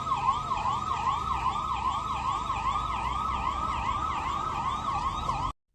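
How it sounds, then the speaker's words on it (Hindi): An air raid warning siren wails during a mock air raid drill at Dunbusk College in Diphu, a loud, steady rising-and-falling warble that continues without a break and then cuts off abruptly. "इस अभ्यास के तहत पहले आपातकालीन स्थिति का संकेत देने के लिए खतरे का सायरन बजाया गया"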